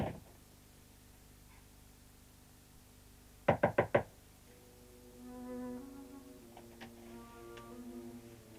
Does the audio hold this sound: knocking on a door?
yes